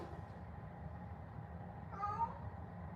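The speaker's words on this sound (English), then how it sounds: "Cat's going fucking nuts." A cat gives a single short, faint meow partway through, set against a low steady room hum with no talking.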